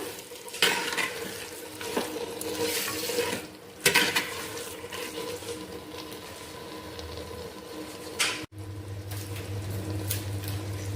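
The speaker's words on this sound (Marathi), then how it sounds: "मातीच्या मंड्यात मटण घातलेलं आहे मी बघा आता तेलात व्यवस्थित हलवून घ्या" Mutton being stirred in oil inside a clay pot makes a continuous sizzle and wet scraping, with louder bursts of movement at intervals and a brief cutoff before the frying resumes.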